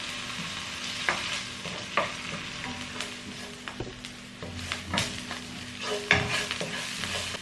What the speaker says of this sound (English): I'm going to add only the kimchi. Then fry it for about 5 minutes.